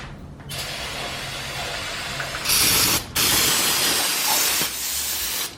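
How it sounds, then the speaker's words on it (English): Aerosol brake cleaner sprays onto a B20 engine block, loud close hissing bursts that stop briefly in short gaps before spraying again. "I'm gonna go ahead and spray all this out with some brake cleaner"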